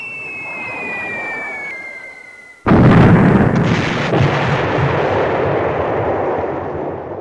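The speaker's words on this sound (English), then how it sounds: "B-17s drop their bombs" Bombs from B-17 Flying Fortresses explode in a board game sound effect: a droning aircraft tone gives way to a sudden loud blast that rolls into a sustained, rumbling wall of explosions.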